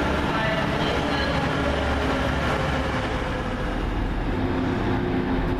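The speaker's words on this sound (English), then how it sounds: "15144 leaves with the 1617 Northern Rail service from Clitheroe to Manchester Victoria" A Northern Rail diesel unit departs Bolton station, a steady loud low rumble and engine drone throughout with broadband rail noise.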